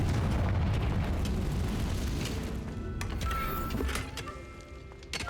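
A Confringo fire spell explodes in Hogwarts Legacy with a broad, rumbling blast that swells loud at the start and trails off into a fading roar, with faint magical tones near the end.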